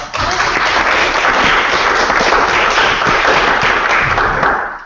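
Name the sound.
round of applause at a meeting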